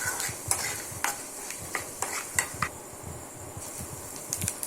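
Lentils, chana dal and urad dal, fried with curry leaves and stirred in a pan while cooking bhindi fry, giving steady sizzling with irregular scraping strokes and light utensil clinks, close and alone.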